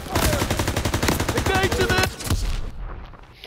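Dense, rapid bursts of World War II gunfire from the Call of Duty: WWII video game, loud and sustained automatic fire with shouted voices underneath, easing off into lower rumbling toward the end.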